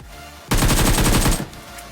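Automatic gunfire in the BGMI battle royale game cracks out in one dense burst of rapid shots lasting just under a second, loud and close, with quieter ambience before and after.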